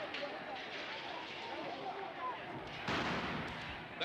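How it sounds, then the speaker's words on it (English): A tear gas canister is fired by police during a chaotic downtown disturbance with windows being smashed, heard as a sudden loud burst that lingers over a noisy, crowded street ambience. "That sound you just heard was the sound of a tear gas fired by a police officer"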